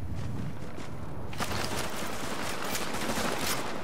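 An automated turret in The Division opens up with rapid, sustained gunfire that starts abruptly partway through and continues as a fairly close, steady rattle.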